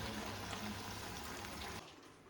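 Water poured into a pot of beans and potato curry, a steady liquid rush lasting about two seconds before stopping abruptly, with no voices over it.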